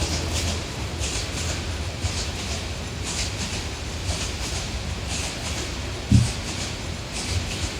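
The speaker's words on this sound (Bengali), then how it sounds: "সারাক্ষণ ট্রেন যায়," A train rolls past with a steady rumble and regular clickety-clack wheel beats repeating roughly every half second, one heavier thump near the end, no voices.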